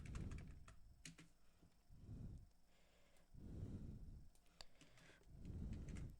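Soft clicking of keys on a computer keyboard as a short FTP command is typed, quiet and close, with low rhythmic breathing-like rumble underneath.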